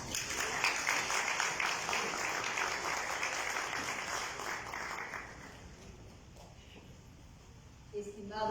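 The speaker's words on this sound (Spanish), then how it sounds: "Aplausos." Audience applause at a book presentation fills the room as a dense, steady clatter of many hands for about five seconds, then fades to sparse claps and room murmur.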